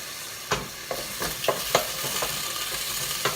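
Vegetables browning in a pan for a vegan, oil-free Scottish stout stew after a splash of vegan Worcestershire, with a steady low sizzle and several sharp scrapes and clinks of a utensil stirring against the pan.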